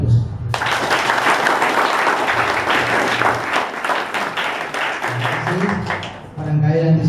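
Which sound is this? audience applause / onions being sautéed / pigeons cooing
audience applause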